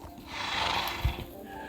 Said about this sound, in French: Là on a plein de cheval.